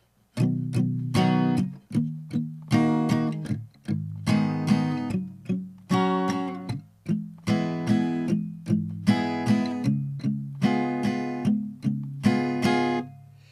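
A guitar strums a steady chord progression with rhythmic downstrokes, the chords changing every few seconds in a repeating pattern, with no voices.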